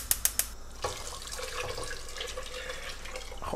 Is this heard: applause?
no